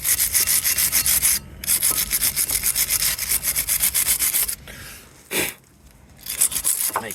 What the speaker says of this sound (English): So we need the wire brush now.